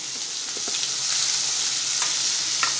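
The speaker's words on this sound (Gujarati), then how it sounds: "હવે આપણે એમાં કાંદો એડ કરી દઈશું।" A large onion fries in hot oil over high heat for Chinese vegetable fried rice, giving a steady, loud, close sizzle with a few faint stirring clicks and no talk.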